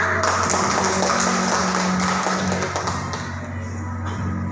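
A group of students gives applause in a classroom, dense, steady clapping filling the room for several seconds and tapering slightly toward the end.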